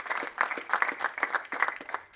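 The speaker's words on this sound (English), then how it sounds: "So can we give a clap to the university for being accountable?" Audience at a university graduation ceremony claps steadily for about two seconds, a dense, even patter of many hands with no voices over it.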